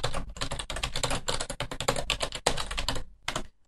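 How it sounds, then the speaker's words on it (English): Quick bursts of typing on a computer keyboard as a task name is entered, close crisp key clicks in uneven rapid runs with brief pauses, ending in a short final burst. "Then type in the name of the new task."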